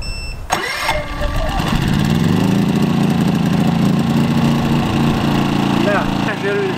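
A petrol generator converted to run on LPG cranks and catches, settling into a loud, steady mid-pitched engine drone that runs throughout, with brief clatter at the start.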